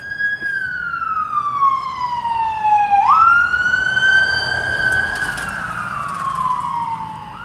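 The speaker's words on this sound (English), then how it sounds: "That's a ambulance." An ambulance siren wails on a city street, its sweeping tone rising and falling and bending in pitch as it passes by loud and steady.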